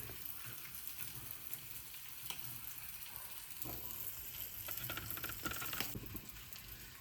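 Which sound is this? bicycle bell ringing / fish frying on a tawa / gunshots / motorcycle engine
fish frying on a tawa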